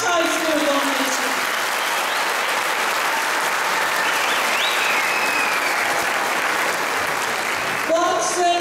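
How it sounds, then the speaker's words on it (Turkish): Sustained, dense applause from an audience at a Caucasian folk dance show's season finale in Kayseri, steady and loud for about eight seconds before a voice cuts in at the end. "kuvvetli bir alkış daha istiyorum onun için"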